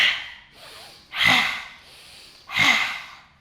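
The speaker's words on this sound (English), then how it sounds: "make some snorting noises" Forceful snorting breaths during a yoga breathing exercise, two sharp nasal exhales with softer inhales between, close and alone.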